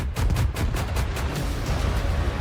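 Mortar and artillery fire in a Battlefield 6 trailer, heard as a dense run of booming shots and blasts over a constant low rumble, loud and close with no talk.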